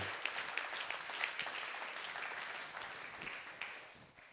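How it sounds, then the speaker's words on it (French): An audience applauds the dean, Jean-Marie Reynaud, at a gathering, a fairly faint, steady patter of many hands with a few sharper claps, fading gradually near the end. "On peut l'applaudir, monsieur le doyen."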